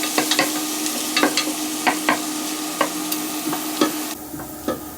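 Chicken thighs frying in a pan, a steady close sizzle punctuated by sharp pops and spits every half second or so, the hiss briefly flaring brighter near the end.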